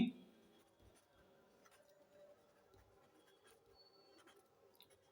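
Pen scratching out maths working on paper, quiet and close, with faint irregular strokes and small taps over a low room hum; no one speaks.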